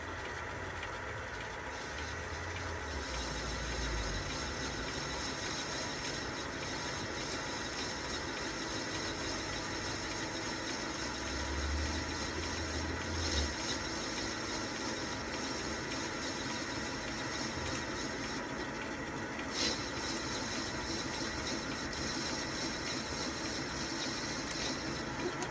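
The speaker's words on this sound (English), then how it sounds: "start the lathe up and I shall drop the speed right down" A metal lathe runs at low speed while turning parts for a model steam tram boiler, a steady, close mechanical hum with a faint low drone throughout and no clear changes in pitch.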